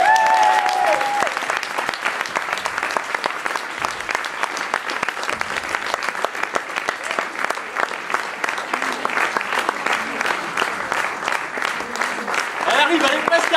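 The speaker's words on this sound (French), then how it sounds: "Veuillez faire un champagne d'applaudissements pour Nelly" An audience applauds for Nelly, a dense, steady patter of many hands clapping throughout, fairly loud, with no pause.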